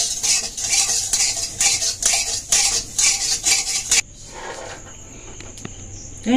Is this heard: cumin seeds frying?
yes